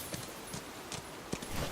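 A horse cantering in the video game Where Winds Meet, its hoofbeats coming as faint, soft, irregular clops over a hissing background of rain.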